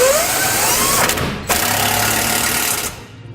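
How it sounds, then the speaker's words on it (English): 3/4 inch socket, likely on an impact or power driver, tightening Curt trailer hitch nuts on a 2019 Ram 1500 Classic: a loud, close, continuous mechanical whirring and rattling with a rising pitch, a brief break near the middle, alone without talk. "I'm going to be using a 3/4 inch socket to tighten them up."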